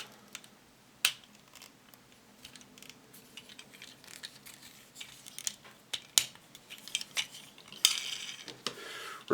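Small plastic and metal clicks and taps come from slotting chromed headlight parts and screws back into a transforming toy car, sparse close-up knocks with a denser rattle of handling near the end.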